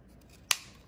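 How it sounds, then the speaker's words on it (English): A single crisp scissor snip cuts the corner of a paper card, close and brief against a quiet background. "cut the corners"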